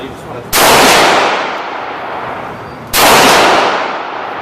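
Two loud rifle shots ring out a couple of seconds apart at an outdoor range, each sharp crack trailing into a long echoing decay.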